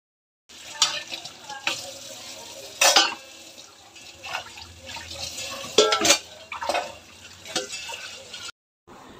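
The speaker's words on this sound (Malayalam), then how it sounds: "പാത്രങ്ങളെല്ലാം ഞാൻ സോപ്പിട്ട് വെച്ച് ഇപ്പം ഒന്ന് കഴുകിയെടുക്കുക" Soaped kitchen dishes and pots are rinsed under running tap water, with intermittent splashing, gushes and clinks of utensils coming and going in irregular bursts, close by and moderately loud, before cutting off.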